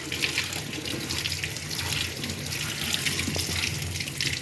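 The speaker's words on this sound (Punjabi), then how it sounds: "ਆਪਾਂ ਹੁਣ ਇਸ ਨੂੰ ਆਪਾਂ ਚੰਗੀ ਤਰ੍ਹਾਂ ਵਾਸ਼ ਕਰ ਲੈਣਾ ਹੈ" Finely chopped cauliflower is rinsed under a running kitchen tap, the water a steady, close, continuous splashing gush that stays even throughout without any voices.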